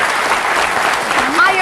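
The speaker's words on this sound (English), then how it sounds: "You can clap for the doctor if you'd like to." A studio audience on a television talk show breaks into a short burst of applause for a doctor. Voices briefly talk over the close, bright clapping.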